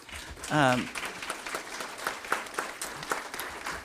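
A school board meeting audience claps at moderate volume in a short, uneven burst, with a brief voice or cheer near the start and chatter running underneath.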